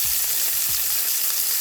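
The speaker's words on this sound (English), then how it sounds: "So I'm going to go in with the onions and just saute them for a couple minutes." Onions sautéing in a pan for smothered pork chops produce a loud, continuous hiss of frying, with a couple of soft low bumps from the pan underneath.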